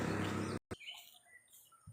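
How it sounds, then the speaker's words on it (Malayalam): A bird calls in the morning outdoors, a few short chirps after a brief loud burst, fairly faint against quiet background. "രാവിലത്തെ നല്ലൊരു കിളിയുടെ ശബ്ദം കേട്ടോ."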